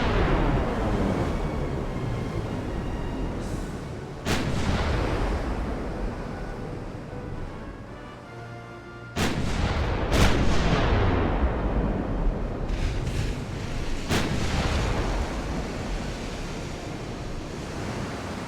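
Warship gunfire from 1890-era hulls in the naval game Ultimate Admiral: Dreadnoughts: several heavy, widely spaced booms break over a steady wash of sea and wind.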